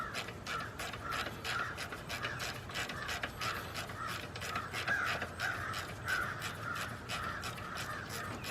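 A ratchet works a 15 millimeter bolt loose from a bracket on a Buick Century-era GM car, a fast continuous run of clicking pawl ticks under a steady mechanical hum throughout.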